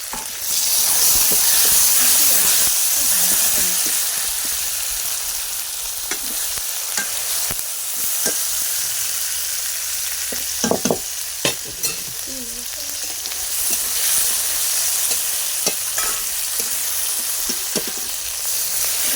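Garlic paste, ginger paste and tomato frying for dal on a stove, a loud continuous sizzle and hiss with occasional stirring scrapes and clinks of a spoon against the pan.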